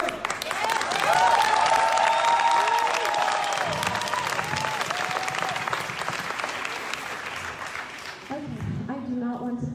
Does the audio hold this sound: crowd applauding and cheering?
yes